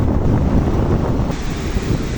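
Roaring sea waves on a beach in heavy wind after heavy rain: loud, continuous surf wash with strong wind buffeting the microphone, close and steady, no talk.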